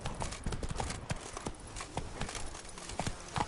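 Hooves of a horse galloping in The Witcher 3 video game, a quick steady clip-clop rhythm running throughout, fairly close and clear over a dense game soundscape.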